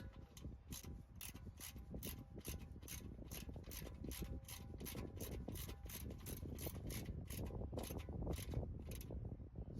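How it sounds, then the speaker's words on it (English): Ratchet wrench clicking steadily as a car's oil drain plug is threaded back in and tightened, a fast even series of close, crisp mechanical clicks running throughout with no talk. "What we'll do is we'll put the drain plug back in."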